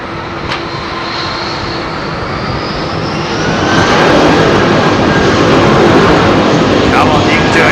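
Roar of a heavy jet airliner taking off from Heathrow runway 27R, swelling louder midway as the engines spool up, then holding a dense, close rumble with a faint whine; a voice may be briefly present.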